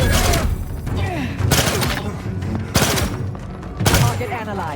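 Gunfire in the Outer Worlds 2 video game, repeated bursts of loud, dense automatic fire and booming impacts over a constant noisy battle bed, with speech mixed in.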